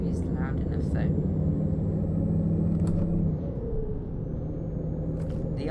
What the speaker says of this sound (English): I definitely do like the sound of this truck.